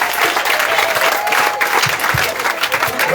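A church congregation claps and cheers, dense sustained applause filling the room with a crowd murmur underneath, loud and continuous throughout.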